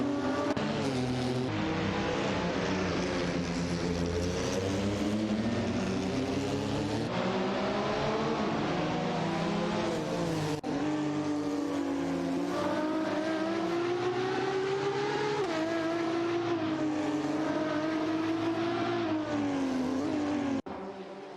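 Race cars in an AI racing video game howl nonstop for about twenty seconds, with engine pitch climbing and falling through gear shifts as cars run close together and pass, loud and continuous with no voices.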